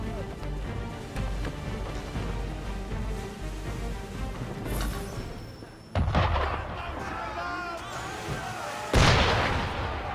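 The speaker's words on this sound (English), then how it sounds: "Why is he shooting at us?" Ship cannon fire in Assassin's Creed III, with two heavy booms a few seconds apart over a rumbling game background.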